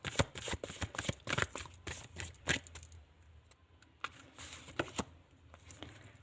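Tarot cards are shuffled and drawn at close range, quiet bursts of riffling and flicking slaps, busier at first and then sparser, with no talking.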